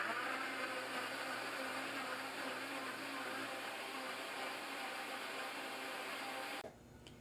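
A blender runs steadily, blending strawberries and blueberries until smooth, a loud continuous whirring grind that holds for about six and a half seconds before cutting off abruptly.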